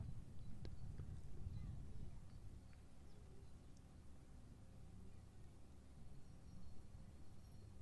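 A show-jumping horse at a Nations Cup event walks on soft ground, its hooves making faint, irregular clip-clops under steady background noise and distant low rumble.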